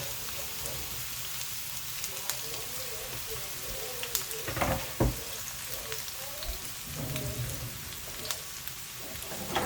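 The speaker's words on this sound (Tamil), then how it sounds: "இப்போ நம்ம கொட்டு பரோட்டா பண்ணுறதுக்காக ஆயிலில் வெங்காயம் அப்புறம் பச்சை மிளகாய் போட்டு நல்லா வதக்கிக்கலாம்" Onion and green chilli sauté in oil with a soft continuous sizzle, with occasional light clinks and scrapes of a spoon against the pan, fairly quiet and steady throughout.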